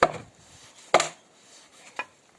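A Yakut knife cutting wood for Evenki sled runners, three sharp separate slicing strokes about a second apart, close and alone in a quiet setting.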